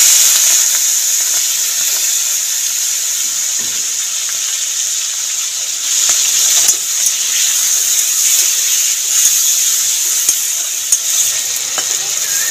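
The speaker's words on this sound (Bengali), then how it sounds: "গরম তেলের মধ্যে চিংড়ি মাছটাও ভেজে নেব।" Prawns rubbed with salt and turmeric frying in hot oil, a loud continuous hiss and crackle of sizzling that holds steady throughout with occasional sharper pops.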